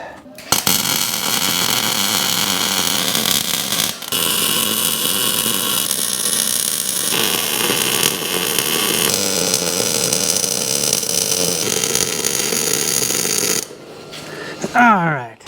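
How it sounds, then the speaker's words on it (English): Welding a bead on the inside of an axle shaft during an open pit grill build: a steady, loud, continuous crackling hiss that runs for about thirteen seconds, then cuts off, followed by a brief separate sound. "We are gonna put some weld down on the inside of this here axle shaft."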